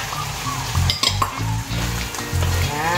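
Bitter gourd (ampalaya) slices hit a hot pan of squid and sizzle loudly and steadily. Brief clinks of a utensil against the pan are heard near the close.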